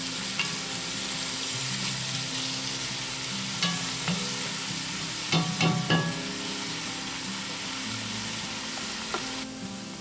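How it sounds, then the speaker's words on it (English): Ingredients stirred with a drizzle of agave nectar in a Dutch oven for Dutch oven lamb sizzle and fry steadily, with scraping stir strokes and a few louder clinks and knocks near the middle and end; no talking. "give them a good drizzle of that, and give them a good stir around"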